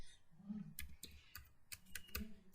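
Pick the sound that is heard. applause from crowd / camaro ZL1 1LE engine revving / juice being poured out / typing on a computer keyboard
typing on a computer keyboard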